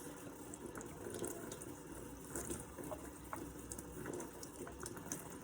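Steady running tap water pours and splashes over a tropical houseplant leaf being rinsed clean, a continuous close, even gush with no talking.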